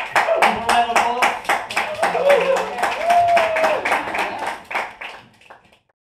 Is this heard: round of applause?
yes